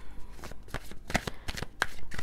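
Small coloring-style oracle cards are shuffled by hand, a close, continuous run of quick riffling slaps and rustles with no talking.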